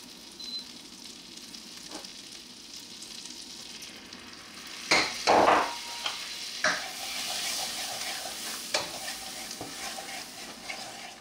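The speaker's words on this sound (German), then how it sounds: "in diese Pfanne sieben wir dann schrittweise das Mehl hinzu und rühren kräftig" Flour is stirred vigorously into melted butter in a pan to make a béchamel roux, giving a steady soft sizzle with a few louder scraping strokes of the spoon near the middle. No one speaks.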